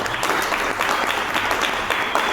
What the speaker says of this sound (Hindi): अजीत कुमार झा सर के लिए एक जोरदार तालियां बोलिए